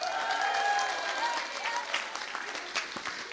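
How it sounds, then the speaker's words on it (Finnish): Audience applause at a Finnish midsummer evening church gathering, moderately faint and steady, with a few scattered louder claps and some voice-like tones early on. "Jere ansaitsee taas kyllä yhdet ekstra aplodit"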